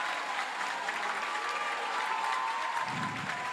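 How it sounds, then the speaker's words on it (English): A partisan crowd at the U23 World Squash Championship applauds a winning stroke, sustained dense clapping that stays loud and even from start to finish, heard from the court-side broadcast position. "Crowd is going hysterical."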